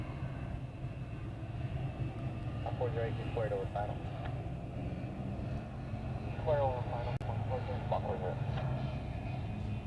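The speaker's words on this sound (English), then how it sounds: "So that was a Cessna Sky Courier. That is a FedEx feeder coming in from one of the other islands." A Cessna SkyCourier FedEx feeder plane arriving at Honolulu airport makes a steady broadband engine drone at moderate distance, with brief faint voices heard underneath.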